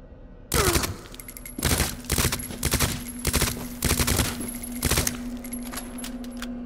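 Gunfire in the Resident Evil 2 video game: a rapid series of sharp, loud shot bursts in several clusters over a steady electronic hum, with no talking.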